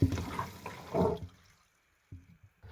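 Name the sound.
water draining out of a newly installed boat sink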